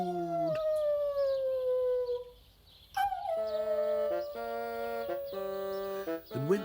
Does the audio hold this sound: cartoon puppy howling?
yes